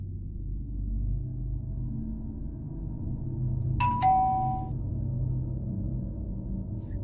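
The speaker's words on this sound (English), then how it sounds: "when the doorbell rang again, he got up and went straight to the door" A doorbell rings once at night inside a home, a clear two-tone chime standing out over a steady low rumble of background noise, with quiet stretches before and after.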